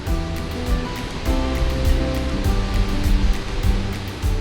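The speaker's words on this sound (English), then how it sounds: "is one of the largest waterfalls east of the Mississippi" One of the largest waterfalls east of the Mississippi roars steadily, a 50-foot drop 200 feet across with amber, tannin-stained water, its dense rushing wash loud and continuous with no voices.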